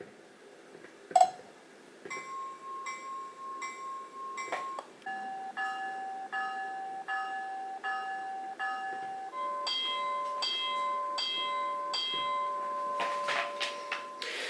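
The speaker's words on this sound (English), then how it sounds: "And you can change the ring rate on these, so you're not stuck with that tone." A model train caboose's repeating electronic DCC bell rings in steady strokes, its ring rate and pitch changing several times across the stretch, after an initial click.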